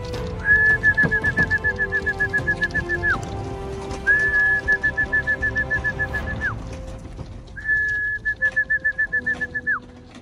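Racing pigeons at a loft landing board give three long, steady whistling calls over rapid pulsing coos and soft fluttering, close and fairly loud, with no talk.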